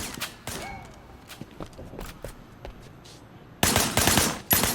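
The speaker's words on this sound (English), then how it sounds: "Shooting at the guys over there." Gunfire in the open-world action game Sleeping Dogs: scattered single shots and thuds early on, then a loud, dense burst of rapid automatic fire near the end.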